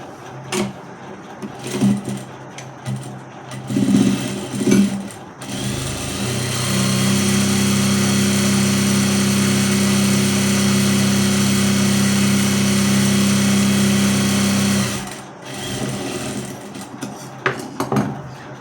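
A sewing machine runs a double stitch on a cordset in a continuous, steady whir lasting about eight seconds, framed by brief handling clicks and fabric shuffling before and after.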